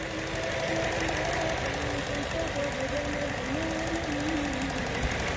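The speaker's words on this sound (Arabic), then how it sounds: "هي السيارة وهذا صوت السيارة." A car engine with a fault that burns through about a litre of oil every 1,200–1,300 km runs steadily at idle, with a fast, continuous ticking knock over a constant hum, close up.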